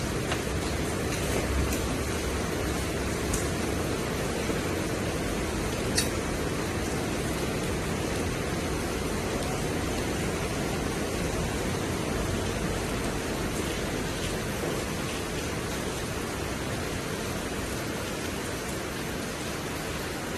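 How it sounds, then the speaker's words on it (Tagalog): Heavy rain pours steadily and loudly throughout, a dense unbroken roar of falling water with no voices. "Lakas ng ulan."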